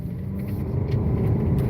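A car rolls past on a road nearby, a steady low rumble that swells slightly toward the end, with no talk.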